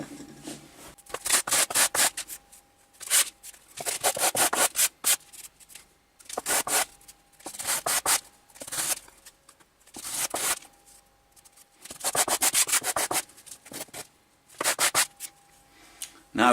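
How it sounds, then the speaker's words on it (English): Hand sanding of a freshly cut workpiece for a benchtop power pack build, heard as close, rhythmic rubbing strokes in repeated bursts separated by short pauses, with no talking. "Bit of sanding and we're sorted."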